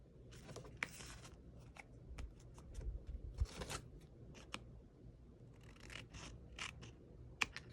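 Scissors snip through paper at a craft desk in a series of quiet, irregular cuts and rustles, close by with no talking.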